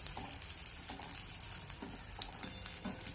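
Batata vada frying in hot oil, a quiet, steady sizzle with soft crackles and occasional light pops, faint and close with no talking.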